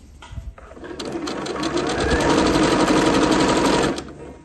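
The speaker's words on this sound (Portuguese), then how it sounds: "Já vai dando uma leve franzida, tá vendo? Aí, você vai costurando tudo." A sewing machine runs steadily while stitching a gathered ruffle into open fabric for a festa junina skirt, a loud, close, rapid whirring that speeds up after a brief start and stops near the end.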